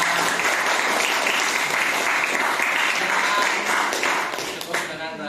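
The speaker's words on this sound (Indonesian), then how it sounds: "Tepuk tangan untuk kita semua." A class of students applauds in a classroom. The clapping is dense and steady, close and loud, and it thins slightly toward the end.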